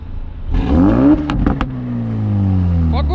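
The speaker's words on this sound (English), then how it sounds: "So now is the time to compare the exhaust." Ford Focus RS exhaust blipped in a sharp rev that climbs and falls, then settles into a steady, loud idle drone with a couple of short pops near the end.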